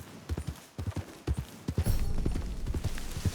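A horse's hooves clip-clop in a steady trotting rhythm in Red Dead Redemption 2, moderately close and growing louder and busier midway, with no talk over it.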